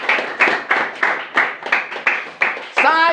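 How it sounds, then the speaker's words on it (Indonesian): Congregation in a church service claps in a steady rhythmic beat, about three claps per second, loud and close, with a voice rising over the clapping near the end. "Tepuk tangan dulu buat kamu."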